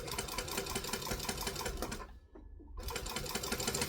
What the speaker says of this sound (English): I'm going to stitch really close to the edge of the fabric